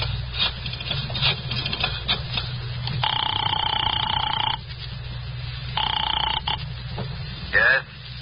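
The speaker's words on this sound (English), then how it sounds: "I got out and found a telephone. I dialed the Kelsey residence" A telephone in an old 1950 radio mystery drama rings after a number is dialed at a drugstore payphone, two long electronic ring bursts separated by a pause, over a low hum.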